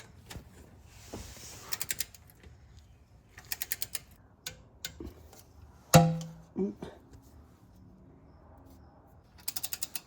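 Torque wrench ratchets in quick clicking bursts, several separate runs of clicks, as it tightens transmission pan bolts on a 1993-1996 Cadillac Fleetwood. Close and crisp, with faint background voice.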